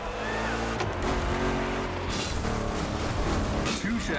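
Two Chevrolet big-block race car engines roar in The Crew Motorfest gymkhana racing game. A steady, loud motor drone rises and dips as the cars are revved, with a brief tire chirp near the end and a voice speaking over it.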